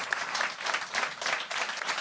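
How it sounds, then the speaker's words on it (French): Clapping from a crowd at a live event, steady and fairly close for about two seconds with no voices over it. "on va vous applaudir"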